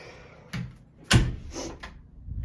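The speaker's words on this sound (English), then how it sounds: "Close the door." Inside a house, a door closes with a sharp thud after a softer bump, followed by faint rattling handling noises nearby.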